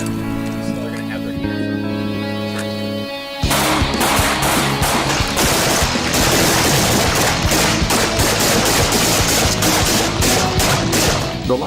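Live gunfire at a shooting range erupts partway through, with dense, rapid overlapping shots and crackling bursts that continue loudly after a quieter opening with steady tonal hum.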